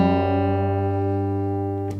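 A guitar's low strings ring out in drop D G tuning, a sustained droning chord with stable pitches that fades slowly over two seconds, ending in a soft touch or buzz near the close. No one speaks.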